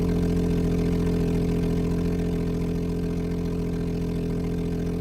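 Simulated car engine from Engine Sim running steadily at a low idle, a continuous loud droning rumble with even harmonic bands, alone without talk.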